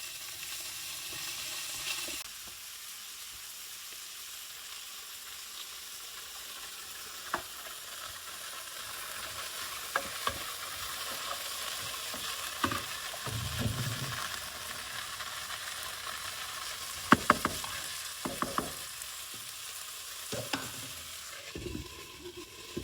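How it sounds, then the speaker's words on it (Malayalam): Beans frying in a pan give a steady, moderate sizzle, with occasional scraping and clinking as they are stirred now and then, and a few sharper knocks near the end. "ഇനി പയർ നമുക്ക് ഇടയ്ക്കിടയ്ക്ക് ഇളക്കി കൊടുത്താൽ മതി."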